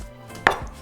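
A single knife stroke chopping potatoes into small cubes on a board, one sharp close thunk in an otherwise quiet kitchen.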